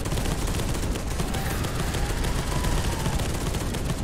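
Bolter fire in Space Hulk Deathwing roars continuously, a loud, unbroken rattle of rapid gunshots filling the whole stretch.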